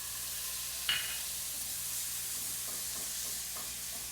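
Garlic cooking in olive oil in a pan with browned scrapings from shrimp, a quiet, steady sizzle with a sharp scrape near the start and light stirring, no talking.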